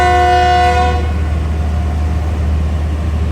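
The Awam Express, a train running from Rawalpindi to Lahore, sounds a loud, close, steady horn whistle before departure, holding for about a second before cutting off into a continuous rumbling station drone.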